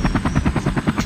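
Small toy helicopter flying close by with a loud, steady rotor buzz that pulses in quick regular beats through the whole second, with no talk over it.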